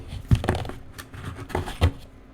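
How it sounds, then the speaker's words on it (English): Tarot cards are shuffled by hand in a few quick riffling bursts, each a short papery flutter, close to the microphone with soft pauses between them. "let me shuffle these cards"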